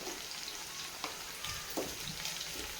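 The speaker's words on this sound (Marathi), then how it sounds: "आता मिरची थोडीशी फ्राय होऊपर्यंत हलक्या हाताने आपल्याला हलवत राहायची" Finely chopped green chilies fry in oil while being gently stirred, a steady close sizzle with a few soft scraping taps of the spoon.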